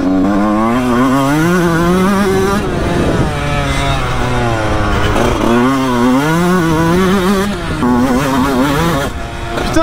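Close, loud revving from a motocross motorcycle engine, repeatedly climbing and dropping in pitch through a series of throttle pulls and gear changes over about ten seconds, with no speech over it.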